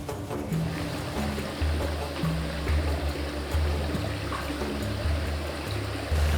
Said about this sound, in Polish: Akwaria w wielkiej liczbie z napowietrzaną na bieżąco wodą